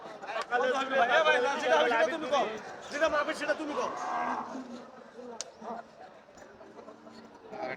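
Bullocks moo loudly nearby while people talk and chatter around them; the lowing fades toward the end as voices continue.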